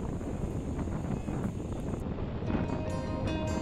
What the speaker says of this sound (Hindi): तो जैसा कि आप अभी सुन सकते हो बहुत ही तेज़ ऐसी हवा चल रही है